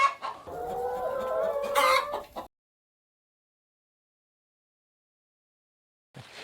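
Laying hens on a poultry farm clucking and calling close by for about two seconds with a rooster-like crow, then silence, then a faint sound returns at the end.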